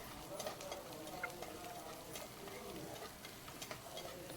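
Onions sautéing with salt in a home kitchen pan give a faint, steady sizzle with soft stirring scrapes and scattered small ticks, with no voices.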